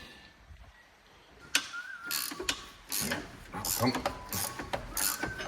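Ratchet wrench clicking as it undoes bolts on a car with corrosion and turbo trouble, arriving in several bursts of close metallic ratcheting after a quiet start, with a brief word spoken.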